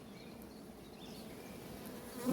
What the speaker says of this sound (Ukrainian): Підійшов я до бджолосім'ї, яку я розширив.